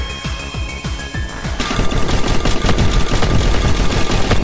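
Automatic fire in the defense shooter Yōtetsu no Malfusha, with a rapid rhythmic burst that swells into dense, continuous loud machine-gun shooting without pause.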